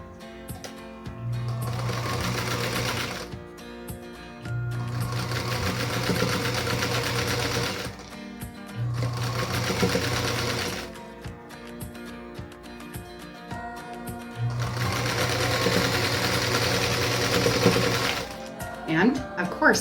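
A sewing machine stitches triangle quilt pieces for a spider star block in several steady, humming runs of a few seconds each, broken by short pauses, with a voice talking over much of the stitching.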